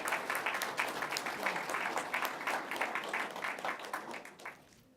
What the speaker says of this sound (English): let's have a round of applause for these hardworking 4-Hers